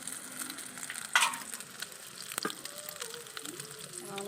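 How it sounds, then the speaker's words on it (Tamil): Eggs fry in a pan for egg noodles, giving a soft continuous sizzle with a sharper crackle and a few stirring scrapes, faint and close. "முட்டையாக பொறிச்சு எடுத்துக்கலாம்"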